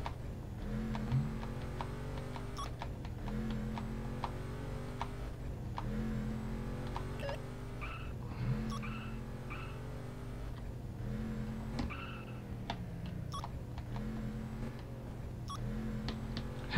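A Trans Am engine in the Real Racing video game revs up repeatedly, climbing in pitch and dropping back at each gear shift in a continuous, close, steady drone.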